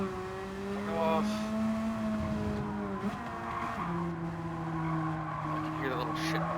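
A rival race car's engine drones close behind on the Trial Mountain circuit in a racing video game, a steady whining tone that rises and shifts pitch between gear changes, with tire noise and possible voice chat over it.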